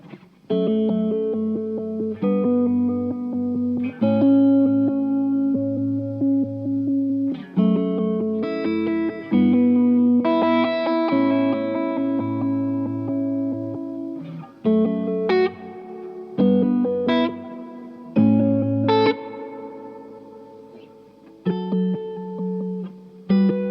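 An electric guitar runs through a Triungulo Lab Malombra chorus/vibrato pedal with reverb added, playing loud sustained chords and picked notes with a wavering, shimmering modulation that continues alone for the whole stretch.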